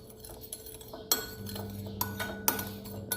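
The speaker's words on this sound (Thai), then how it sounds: "เราจะคนให้ซอสของเราละลายก่อน" Oyster sauce stirred in a pan to dissolve it: light metallic clinks and taps of a utensil against the pan, a few sharper knocks among quieter scraping, close and without talking.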